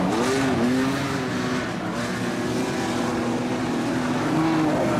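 Modified sedan race cars roar around a dirt speedway in an A-Main at Kingaroy, engines droning loud and sustained with pitch rising and falling as the pack passes, no talk over it.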